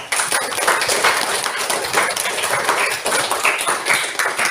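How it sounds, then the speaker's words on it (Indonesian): A school class claps hands for a student in a classroom lesson, a continuous dense patter of many hands at moderate loudness, steady throughout with no distinct pauses. "Tepuk tangan untuk si Pia."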